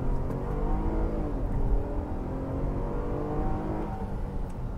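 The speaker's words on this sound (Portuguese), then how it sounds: "Dar uma puxada com ela pra vocês ouvirem o barulho do motor." A Cadillac SRX SUV with a V6 VVT engine accelerates hard from inside the cabin, its engine note climbing in a steady, rising roar that stays loud and continuous with no talking.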